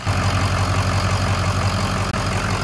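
A rebuilt Ford Powerstroke diesel truck engine idles steadily before setting off, a loud, close, low throbbing rumble with a constant rhythm and a brief dip near the end, no talking.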